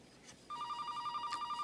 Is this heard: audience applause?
no